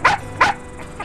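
A dog gives two loud, close barks in quick succession, followed by a softer third yelp and a faint fourth near the end, with no talking.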